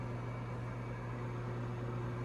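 A KitchenAid KMMF530PPS microwave oven runs steadily while heating milk, giving a constant close hum with a low electrical drone and fan-like hiss, unbroken and with no voices.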